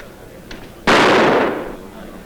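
A single loud gunshot cracks out close by, fired at a man, its sharp burst trailing off over about half a second, with faint background sound before and after.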